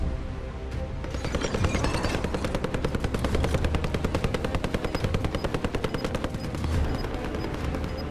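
Sustained rapid automatic gunfire from COD Mobile rattles in a loud, continuous stream for nearly the whole stretch, with dense evenly spaced shots over a low rumble and no talking.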